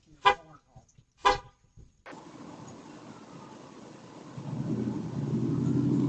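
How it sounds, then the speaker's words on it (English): Two short, loud car horn honks from a nearby neighbor, heard outdoors through a doorbell camera, are followed by a steady low outdoor rumble that grows louder toward the end. "Luckily, the neighbor found out and honked to chase him away."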